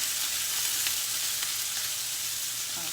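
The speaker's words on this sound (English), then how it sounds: "Okay, the garlic looks a little golden now, so I'm going to add ginger here." Ginger sizzles steadily in a hot pan with garlic that is frying to a golden color. The crackle is close and stays loud and even throughout, with a faint stir or two and no talking.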